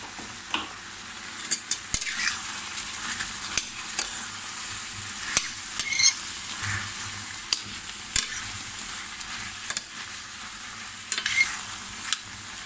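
Tomatoes seasoned with fenugreek sizzle softly in a pan while a utensil stirs them in irregular scraping strokes, with sharp clicks and scrapes standing out above the steady frying hiss.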